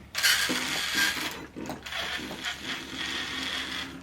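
An RC4WD 80T brushed motor drives an RC crawler, giving a close, fairly quiet mechanical whir with gear clicking and ratcheting that rises and falls in short bursts over about four seconds, with no talk.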